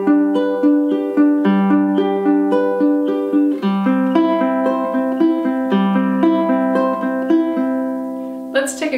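Ukulele strummed in the third rhythm pattern: clear, close chord strums in a steady repeating rhythm with shifting chords, played alone without talk.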